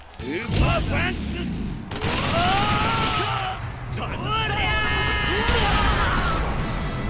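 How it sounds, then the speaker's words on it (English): A super move from the King of Fighters fighting game plays with loud blasts and crashing impacts. Bright whooshing and sweeping synth effects layer over a dense, continuous barrage of game sound. "let's check out the best damn super in this game"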